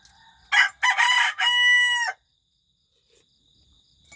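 A rooster crows once, loud and close by, in a single drawn-out cock-a-doodle-doo lasting under two seconds, followed by near silence.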